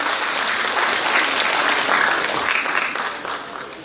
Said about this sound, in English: a round of applause for everybody on stage